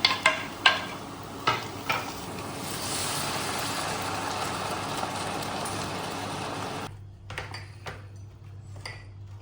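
Maggi noodles with tomato stirred in a pan: a few sharp metallic knocks of the spoon come first, then a steady frying sizzle that suddenly drops to a quieter hiss with light scrapes.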